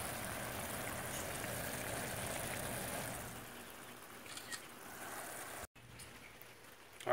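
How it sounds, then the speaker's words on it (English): A pot of crawfish étouffée bubbles and sizzles as the crawfish release their juices, a dense, close, steady simmering hiss that softens partway through before a brief dropout and a sudden return. "It's actually bubbling right there, and it's letting off juices"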